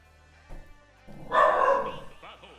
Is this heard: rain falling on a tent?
no